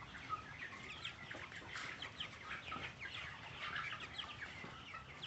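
Broiler chickens on a farm clucking in a steady, busy flock chorus, overlapping calls at moderate distance with no talk.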